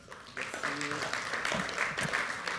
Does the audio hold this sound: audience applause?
yes